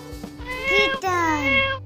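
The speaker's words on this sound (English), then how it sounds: "Kitten," A kitten meows in a children's lesson on domestic animal names, giving a couple of drawn-out, wavering cries close up.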